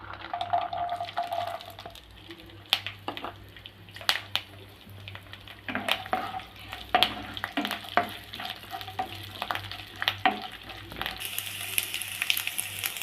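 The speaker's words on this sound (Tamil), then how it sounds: "எண்ணெய் சூடாயிடுச்சு, கொஞ்சமாக கடலைப்பருப்பு சேர்த்துக்கிறேன்." Steady crackle of chana dal frying in hot oil, with a low hum beneath and scattered louder pops and scraping clicks of a utensil.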